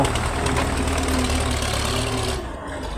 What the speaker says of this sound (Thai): รถไถคันนี้ มีโป้งเดียวพี่น้อง